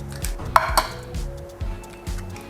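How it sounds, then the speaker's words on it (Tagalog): Four eggs being beaten in a bowl, with a utensil clinking and scraping against the dish. The strokes land in a loose repeating rhythm, close and fairly loud, with a couple of sharper clinks near the start. "right now, we're going to beat some eggs. So, 4 na itlog ang gagamitin natin."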